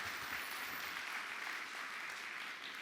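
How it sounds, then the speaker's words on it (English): Applause from the audience at the closing ceremony of an academic conference, heard as a faint, distant and steady patter of many hands clapping without pause. "I think we should applaud them"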